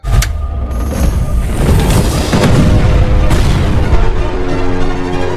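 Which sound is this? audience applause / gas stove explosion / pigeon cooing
gas stove explosion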